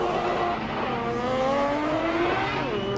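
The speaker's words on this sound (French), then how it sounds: "BMW E46 face à la Nissan S13." Two drift cars, a BMW E46 and a Nissan S13, race in a French Drift Championship, engines revving hard and steady with rising and falling harmonic whines and some tire squeal throughout, loud and close with no speech.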